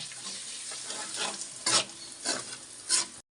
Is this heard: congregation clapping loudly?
no